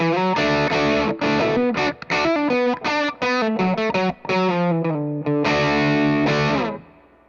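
An electric guitar plays through a 3rd Power Kitchen Sink 6VEL amp with a distorted, effects-laden tone, strummed chords and short choppy stabs in a loud rhythmic run, ending on a sustained ringing chord that fades out.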